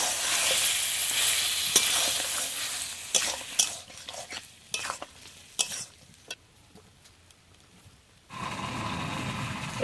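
Garam masala and ginger stirred and fried in oil for a cow milk chicken curry, loud scraping stirs and sizzling at first, then sparse, fainter spoon strokes before a renewed burst of frying.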